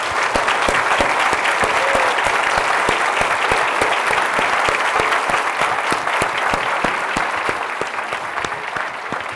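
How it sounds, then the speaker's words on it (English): Sustained, dense applause from a seated audience at a 2018 governor's luncheon in Michigan honoring military members, steady crisp clapping filling the room from start to finish and tapering slightly at the end. "we could give you a round of applause for your outstanding service"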